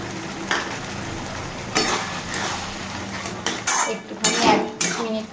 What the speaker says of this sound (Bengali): এবারে এই পোস্তটা একটু দিয়ে দিই।